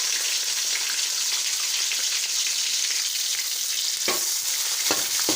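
Onions hit hot fried spices in a pot for chana pulao, setting off a strong steady frying hiss, with two or three clunks and scrapes of a spoon near the end, heard close with no voices.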